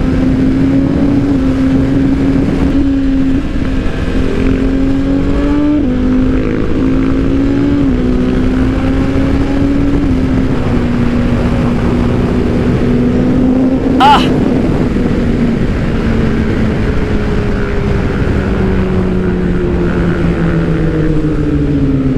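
A Suzuki GSX-R motorcycle engine with an engine fault runs at a steady, droning idle in Dakar, its tone drifting slightly, with wind buffeting the microphone throughout.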